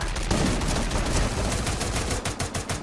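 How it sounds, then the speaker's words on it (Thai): Rapid automatic gunfire from the Free Fire shooter game, dense, loud bursts of shots rattling continuously with a few sharper individual cracks near the end. "แล้วมันจะเป็นการยิงเอาละ"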